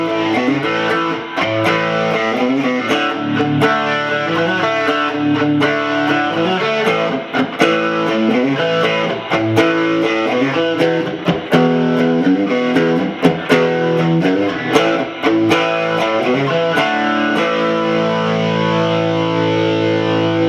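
Electric guitar played through a Blessed Mother Immaculator overdrive pedal, set with extra clean signal blended in for a brighter tone: a continuous, loud, driven stream of chords and notes with a light crunch.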